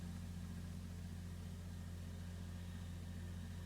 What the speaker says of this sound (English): I guess I have to wait for my dad to drive his tractor by the window because it's gonna get really loud